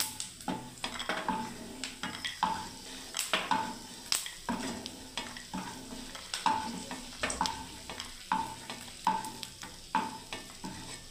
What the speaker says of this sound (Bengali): হয়ে গেল বাদামটা ভাজা